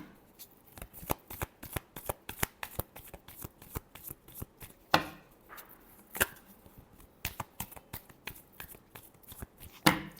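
Tarot cards are shuffled by hand in a quick, uneven series of crisp flicks and slaps, with a few sharper snaps, close and fairly quiet, with no one speaking.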